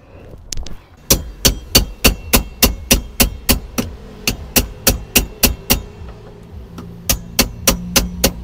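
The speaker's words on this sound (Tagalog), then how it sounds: "kung matitigasan kayo, pwede niyo namang pukpukin ng flat screw to" A flat screwdriver is hammered against the fuel tank lock ring of a 2009 Honda City, giving about two dozen sharp metallic taps in a steady, even rhythm with one short pause partway through.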